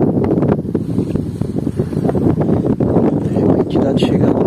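Steady wind gusting over a lagoon at high tide with a light south wind and big choppy waves, a broad continuous roar with slight buffeting against the microphone.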